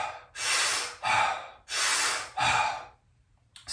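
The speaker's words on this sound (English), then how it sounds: "big breath out the mouth. It's gonna be quick, it's gonna be fast, and it's gonna be intense." Quick, intense breathing in and out through the mouth during a breathwork exercise, four forceful breaths in a steady rhythm, close and clear, followed by a short pause.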